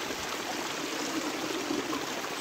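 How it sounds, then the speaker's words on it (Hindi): Small mountain streams and waterfalls in Khaplu valley, Pakistan, a steady broadband rush of flowing water heard close and continuous with no voices. "छोटे छोटे झरने, आबशारें, नदियाँ, नाले"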